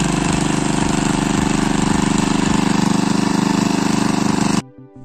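A hand-started tiller engine ploughing a terraced hillside field runs loud and close with a steady rapid chugging throb for about four and a half seconds, then cuts off abruptly.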